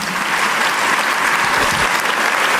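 A church congregation applauds in a dense, steady burst of clapping from many hands that fills the room evenly throughout.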